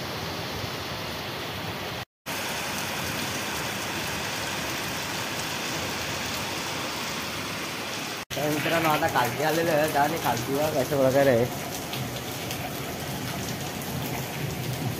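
Heavy rain pours steadily on a farm in a dense, loud hiss that runs almost throughout, with a brief dropout early on, while someone talks over it in the later part.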